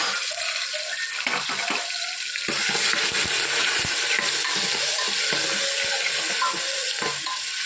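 Steady frying sizzle of tomatoes, potatoes, green chillies and curry leaves in hot oil, with occasional stirring clatter, close and fairly loud, no voices.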